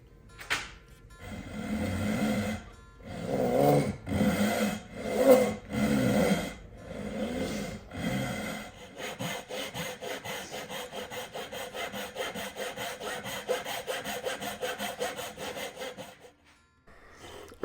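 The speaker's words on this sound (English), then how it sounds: "I'm using a crosscut saw with very, very fine teeth here" Wood is cut with a Japanese Dozuki fine-tooth crosscut saw. At first come slow, separate rasping strokes, then a long run of quick, even back-and-forth strokes that sound close and clear, with no talking.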